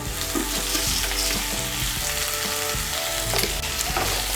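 Soybean chunks and eggplant with salt and sugar sizzle in a hot pan while being stirred, a steady frying hiss with scraping and clinking of the spatula throughout, close and fairly loud with no talk.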